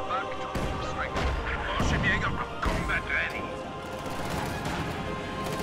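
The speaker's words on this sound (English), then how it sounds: "Jagdpanzer continues to fire on the building" Jagdpanzer tank destroyer cannon fire in a WWII strategy video game, with heavy booming impacts and crashing blasts amid ongoing battle noise and a commentator talking over it.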